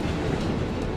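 A LEGO high-speed train model climbing a slope gives a steady rumbling motor drone with faint rattling clicks, continuous and close throughout.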